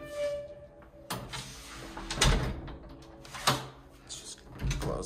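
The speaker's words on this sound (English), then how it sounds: "Close that door and open this one." Indoors in a new-build home in San Bernardino, California, a door thuds shut, followed by a storage door under a staircase being opened with a few knocks, rattles and creaks spread over several seconds, nearby and without talk.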